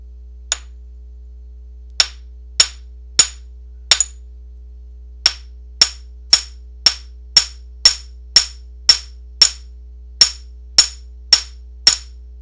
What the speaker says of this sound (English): I'm going to flatten it. It sort of makes a disc for me with the chasing hammer.